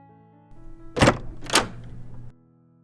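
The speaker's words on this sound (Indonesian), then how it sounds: "Mendengar pintu terbuka" A door opens: two sharp, close knocks or thunks about half a second apart over a low, steady hum, then a short rustle before it settles back to near silence.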